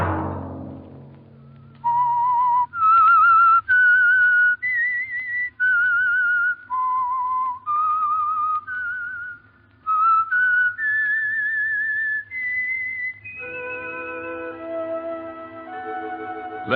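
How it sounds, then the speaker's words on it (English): The whistled theme of The Whistler, a CBS radio mystery program sponsored by Signal Oil: a lone melodic whistle in distinct rising and falling phrases, loud and close, ending over soft orchestral accompaniment. "Let that whistle be your signal for the Signal Oil program, The Whistler"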